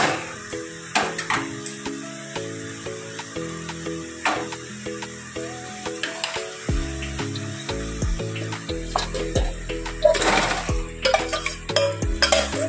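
Chicken livers being stirred into spice masala in a pan, with repeated metal spoon scrapes and clinks against the pan over a faint sizzle while a tonal background melody plays.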